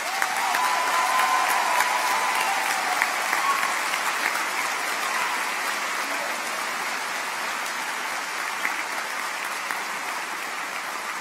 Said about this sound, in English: So I'd like to just ask one big round of applause for all of these folks.